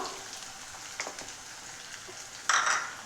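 Chopped garlic sizzling and being stirred in a pan of onions while onion pickle is made, a soft steady frying hiss with a few scraping stir sounds and a louder sizzle burst near the end.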